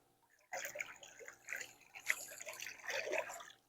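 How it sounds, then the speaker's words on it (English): Water flowing through the flow sensor of a pool heat pump gives a steady, soft rushing and trickling that starts abruptly and continues fairly quietly. "There's a very good flow of the water."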